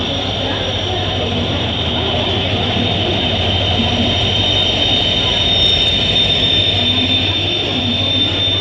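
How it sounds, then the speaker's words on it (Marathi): The Tutari Express train rumbles slowly past close by in a continuous, loud, even roar of wheels and carriages, with a high whine running throughout. "आमची तुतारी एक्सप्रेस इलिया हळूहळू येताना तर हळूहळू जातली पुढे"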